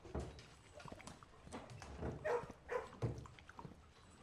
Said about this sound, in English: We do see the dogs, so that's always a bonus.